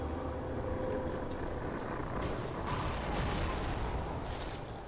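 Unit shooting in the strategy game Civilization Beyond Earth, a few booming bursts of fire rising out of a steady rumbling wash of battle noise.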